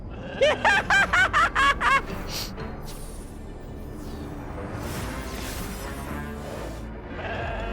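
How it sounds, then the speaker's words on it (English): A slumber sheep character in the video game Infinity Nikki gives a quick run of about six sharp, nasal bleats, followed by quieter game ambience and soft magical effects. "Ah, it's the slumber sheep!"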